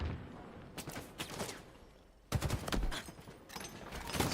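Grenade spam goes off in Halo during a collegiate playoff match, as clusters of loud blasts and rattling bursts come in waves with a brief lull in the middle, then resume heavily.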